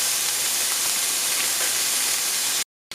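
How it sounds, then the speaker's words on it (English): Tomatoes boil hard in a pot on the stove, giving a loud, steady rushing hiss of bubbling and steam that cuts off abruptly into silence near the end. "Looks like we got a good boil going over there with the tomatoes"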